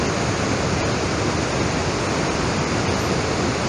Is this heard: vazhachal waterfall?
yes